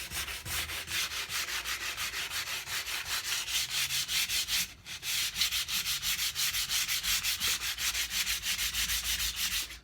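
A wooden guitar neck is sanded by hand in fast, even back-and-forth rubbing strokes, a close, steady rasping rhythm that pauses briefly midway before resuming.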